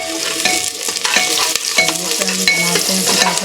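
Onion, bay leaf and black pepper frying in oil for pulao, a loud close sizzle with frequent clinks and scrapes of stirring in the pan, no talking.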